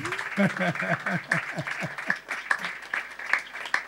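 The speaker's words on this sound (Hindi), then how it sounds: "तालियां बजाएं" Applause in a church gathering, steady clapping with sharp claps standing out, running under a voice that sings or calls out in gliding tones throughout.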